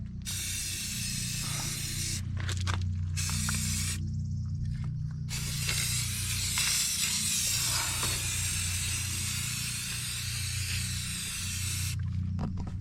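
A steady, continuous hiss of spray paint being applied to the wheel rim of a cabover Kenworth K100 truck, with a low hum beneath it and a few brief pauses in the spraying.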